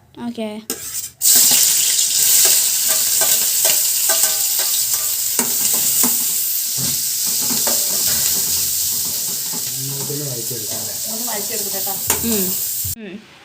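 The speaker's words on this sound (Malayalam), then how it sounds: "സവാളയും പച്ചമുളകും ഇട്ടു" Onion and green chili dropped into hot oil, a loud continuous sizzle and hiss with stirring clatter, while voices talk over the frying near the start and end.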